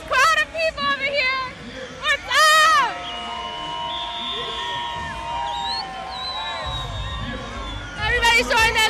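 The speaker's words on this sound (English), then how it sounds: "as you can see, this crowd of people over here." A crowd at a Puerto Rican parade is loud with babble, shouts and whistles, and sustained horn- or whistle-like tones sound through it. Several voices talk nearby over the steady outdoor din.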